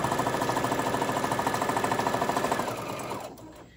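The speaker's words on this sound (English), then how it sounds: "I'm going to stick this under my machine. And we're going to sew this one quick seam." A sewing machine stitching a quick seam on a small scrunchie, a close, loud rapid rhythmic chatter of the needle that runs steadily, then slows and stops near the end.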